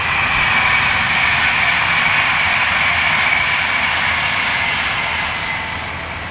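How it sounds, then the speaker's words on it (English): A train passes near a narrowboat moored on a canal: a loud, steady, close roar with a sustained hum that slowly fades toward the end. No one speaks. "Oh, here comes another train."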